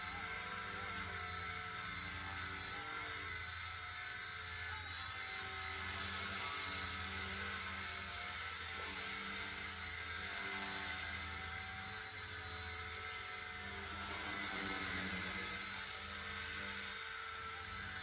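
A steady high-pitched whine of a small Rage RC Volitar X model helicopter hovering nearby, its rotor drone unbroken and constant throughout.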